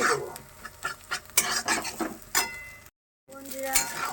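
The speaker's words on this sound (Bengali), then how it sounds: "এরপর ভালোভাবে নেড়ে নিচ্ছি" Pasta being stirred through fried egg and vegetables in a pan, giving close scraping and clinking of a utensil against the pan in uneven strokes, with a light sizzle underneath and a brief silent gap near the end.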